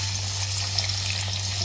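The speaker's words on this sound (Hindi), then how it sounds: "लहसुन को पहले छौंकेंगे" Steady sizzling and frying hiss of garlic tempering in hot refined oil, continuous and fairly loud, with a low hum underneath.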